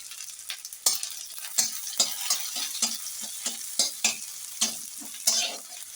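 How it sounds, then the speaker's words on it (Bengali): Dried red chillies and crushed garlic cloves fry in hot mustard oil, a continuous hiss punctuated by a dozen or so sharp, regular spatula strokes and scrapes against the pan. "শুকনো লঙ্কা ফোড়ন দেবো আর দেবো এই রসুনের কোয়া"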